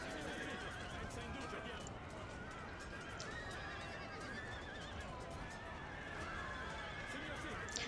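Horses neigh and whinny repeatedly through a loud, continuous video game battle, with hooves clip-clopping and constant combat noise underneath; someone talks over it.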